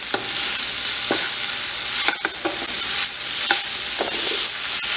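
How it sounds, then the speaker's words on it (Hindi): Mashed potatoes being stirred and fried in a pan for a fasting-day potato and paneer dish, with a steady sizzle and a spoon scraping in bursts about once a second, close and alone. "इसको हमने हिला लेना है।"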